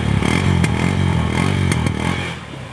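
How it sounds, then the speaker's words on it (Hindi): A motorcycle engine starts up and runs steadily at idle, loud and close, with a few sharp mechanical clicks and clatters over its low rumble. "17 मॉडल, लेकिन सेल्फ स्टार्ट ने किया फौरी काम"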